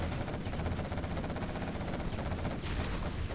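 Rapid sustained quad cannon fire in Generals Zero Hour on the Jungle Wolf map, a dense continuous rattle of bursts that stays loud and steady throughout, with no break.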